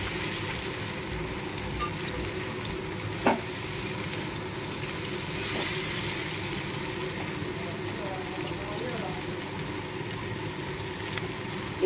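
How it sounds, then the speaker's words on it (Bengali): Sliced ridge gourd frying in oil in a pan, a constant close sizzle with occasional stirring knocks, while a person talks over it. "সেই ঝিঙেটা এর মধ্যে দিয়ে দিলাম, দিয়ে লাল লাল করে ভেজে নেব।"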